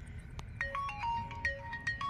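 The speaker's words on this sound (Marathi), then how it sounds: "परत आला फोन." Mobile phone ringtone for an incoming call, a short melodic electronic tune of bright repeating notes playing fairly softly against a low background hum, with no talk over it.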